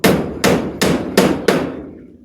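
Hammer blows driving nails while roofing a house: five sharp, loud strikes at a steady, slightly uneven pace, close by and with no talk over them.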